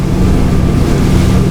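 Single 170 horsepower engine on a flat-bottomed motor boat revving hard while up on the plane, a loud, steady droning roar mixed with rushing water and wind buffeting.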